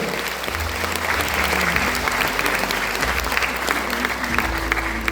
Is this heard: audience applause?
yes